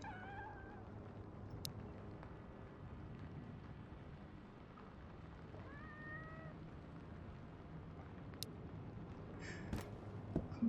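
Cat meowing in the video game Road to Vostok, several short upward-bending meows, fairly clear, over a steady ambient bed of wind and low hum.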